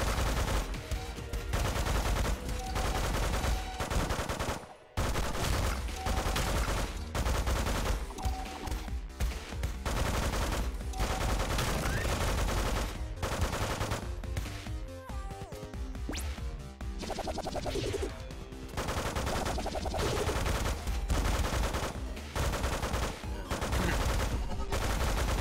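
Dense, constant rapid gunfire and impacts from the video game Megabyte Punch, a busy stream of bursts with barely any pauses, over game music with some speech.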